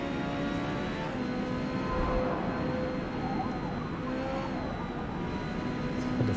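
A V8 race car in Forza held on throttle, a steady loud engine drone with a sustained whine that runs throughout, with no voices.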